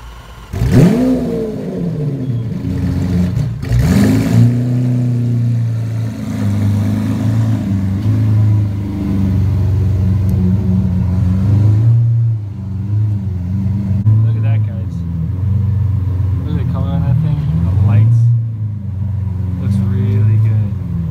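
A sports car engine revs hard several times, rising and falling in loud roaring bursts, then idles with a deep rumble while people talk nearby.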